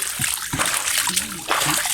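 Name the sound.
water splashing at a cold spring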